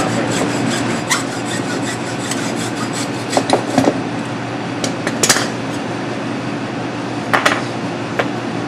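A butcher cuts a lamb shank off during a butchering demonstration, a steady rasping, sawing scrape over a constant noisy background, with scattered sharper clicks and knocks throughout.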